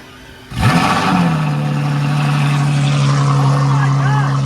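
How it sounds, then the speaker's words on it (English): A LaFerrari hybrid V12 engine roars to life in a cold start after a brief starter whine, then settles into a loud, steady high idle that drones on without letting up. "This is a cold start on the LaFerrari."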